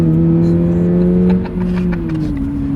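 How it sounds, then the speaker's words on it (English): A 2025 Toyota GR86 with manual gearbox drones loudly up close while merging onto a highway, its tone dipping briefly for a gear change before climbing again under steady acceleration. "let's see how quickly we can get our new 2025 Toyota GR86 here up to speed"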